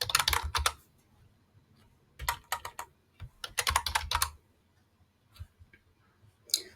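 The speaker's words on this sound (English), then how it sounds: "So I've typed in conversation" Fast clattering keystrokes on a computer keyboard come in short bursts separated by quiet pauses, close and crisp, with no talking.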